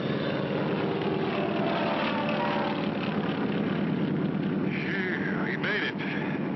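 A cartoon airplane's propeller engine drones steadily at takeoff, a loud, continuous rumbling hum that dominates throughout.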